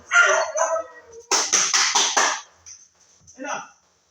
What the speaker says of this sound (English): When one starts barking, the other one starts barking.